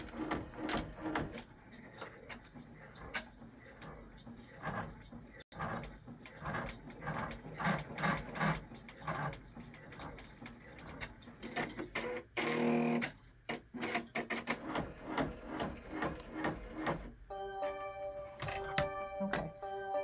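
An embroidery machine runs a placement stitch for a pumpkin ghost napkin holder, giving a steady, rapid mechanical ticking and whirring with dense repeated needle strikes, close and continuous, ending in a brief tonal beeping pattern.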